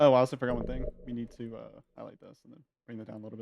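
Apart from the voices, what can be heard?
None of the usual background noises is heard.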